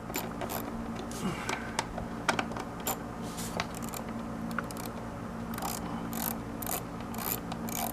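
Light, fast ratcheting clicks come from a ratchet backing out loosely fitted 8mm bolts on a 2001 Ford Explorer engine, moderately quiet over a steady background hum, with no talking.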